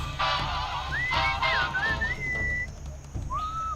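Melodic whistling in the Sam & Max video game, a wavering tune of rising and sliding notes that trails off and then returns briefly, played over a low background hum.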